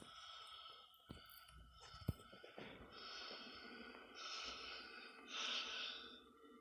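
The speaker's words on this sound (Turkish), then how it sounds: "Nefes alışverişi geliyor." Heavy, faint breathing and snorting gasps in a horror video game, with soft irregular breaths under quiet ambient game noise.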